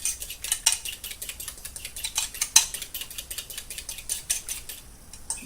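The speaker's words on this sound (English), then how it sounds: "And then you're to whip this up together so they're well blended." A fork whisks egg whites in a bowl for diet cake pops, making rapid, steady clinking taps against the bowl close by, with no talk.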